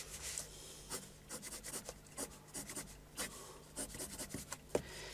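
A pencil scratching parallel lines across paper during freehand sketching, heard as a quiet run of short, rhythmic strokes, each a brief rasp close by.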